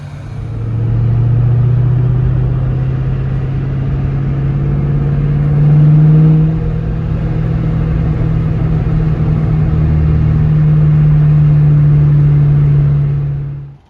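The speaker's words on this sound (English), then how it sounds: "Carroll Shelby said these cars are meant to be driven, meant to be enjoyed" A Ford Mustang drives along with a deep, steady engine rumble that swells as it accelerates, loud and close, with no talking over it.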